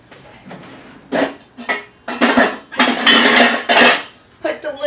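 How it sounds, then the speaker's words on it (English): A lid goes onto a pot of potato soup on a stove, giving several close metallic clanks and clatters in quick bursts with short pauses between them. "Put the lid on so that it can heat up."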